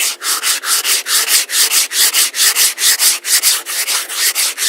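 Hand sanding on a cracked wooden sewing machine table: a steady run of rapid, rhythmic rasping strokes, close and loud, with no voices.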